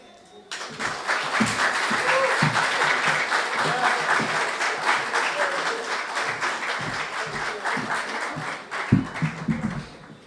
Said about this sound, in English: Can we get another round of applause for that very powerful spoken word?